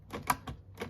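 Tab key on a Commodore manual typewriter being operated, giving several sharp mechanical clacks and a slow carriage-travel whir in quick succession, close and clear with no talking.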